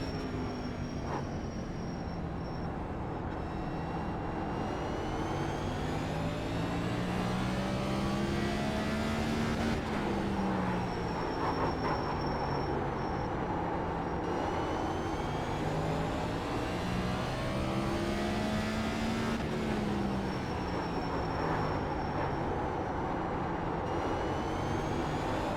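Race car engine on a lap of Martinsville in a racing video game, a continuous loud drone whose pitch climbs and falls repeatedly as the car accelerates down the straights and slows for the corners.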